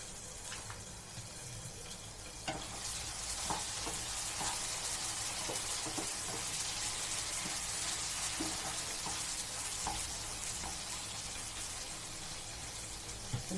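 Masala with coriander powder sautés in a pan, a steady close sizzle running throughout with scattered light clicks and scrapes of stirring and no talking.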